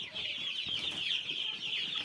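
A flock of six-week-old Kaveri chickens clucks and chirps continuously at close range, a dense high twittering chorus with a few soft background knocks.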